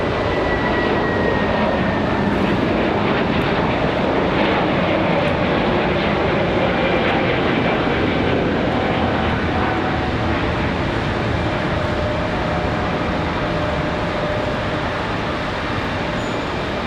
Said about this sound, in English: Going to be a nice early rotation for the A321.